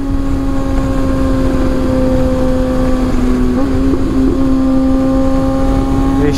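Kawasaki ZX6R motorcycle carrying a passenger, its engine holding a steady, loud, near drone with a sustained tone that shifts slightly in pitch as it accelerates, no talk over it.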